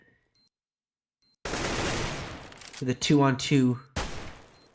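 Gunfire in Counter-Strike: Global Offensive on the Cache map, a brief burst of rapid shots fired through smoke, heard under an excited esports commentator speaking over the match.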